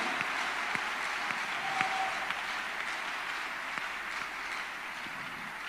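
A church congregation clapping their hands during a Thursday counselling and deliverance service, an even, moderately distant patter of many hands with a few sharper claps standing out.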